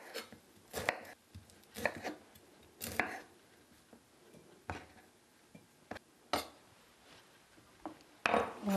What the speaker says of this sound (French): Et nous allons découper en petits fleurons.